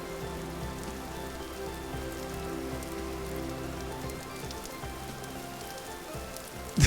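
Steady video-game rain patters on surfaces in a continuous, even hiss of droplets, moderately quiet, with no voices.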